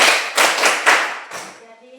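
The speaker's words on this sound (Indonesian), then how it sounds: "Oke, tepuk tangan untuk kelompok 2." A classroom of students claps for a presenting group, with several bursts of hand claps that swell and fade over about two seconds before trailing off into quiet.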